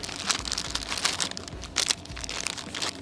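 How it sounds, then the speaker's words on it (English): Plastic packaging around pretzel buns crinkles and rustles as it is cut open, several close, brief crackling bursts in an uneven rhythm. "So we're gonna cut the packaging open."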